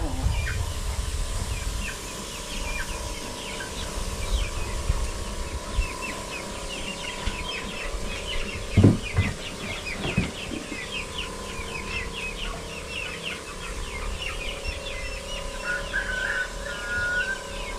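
Chickens and turkeys in a poultry house cluck and call off and on under a dense, noisy background, with a brief louder thump near the middle and no clear talking.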